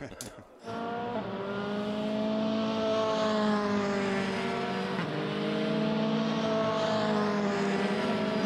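FIA F3 race cars from the 2013 European Championship, Prema Power Team machines among them, scream past on track with high, loud engine whines that climb and shift pitch as gears change, after a short quiet start.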